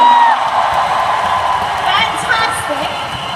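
A spirited event crowd cheers and whoops loudly and continuously, with scattered high shouts rising over a dense roar.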